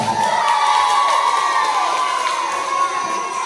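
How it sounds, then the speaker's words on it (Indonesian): A school crowd of children at a primary school awards ceremony in Indonesia cheers and shouts loudly, a continuous excited roar of young voices with claps mixed in, filling the hall without pause. "Kita berikan tepukan tangan yang sangat meriah."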